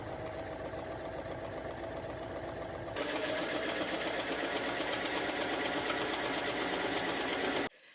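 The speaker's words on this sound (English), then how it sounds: "Next, I sew the mock fly using the template as a guide for the top stitch." A sewing machine top-stitches a mock fly on satin pants, whirring in a fast, steady mechanical chatter. It is close, pauses briefly, then resumes slightly louder and stops near the end. There is no talk.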